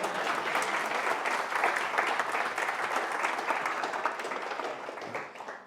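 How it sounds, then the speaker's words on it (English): Wedding guests applauding during the speeches, a full room of dense, steady clapping that holds strong for several seconds before tapering off at the end. "Another clap."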